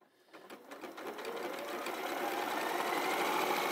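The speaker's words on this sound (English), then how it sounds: "You just let the machine gently guide your fabric through the machine" Close by, a sewing machine stitches fabric for a Moda kimono quilt, starting with a few slow stitches and speeding into a steady, even whirring hum that builds in loudness to the end.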